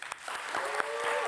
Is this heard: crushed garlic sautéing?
no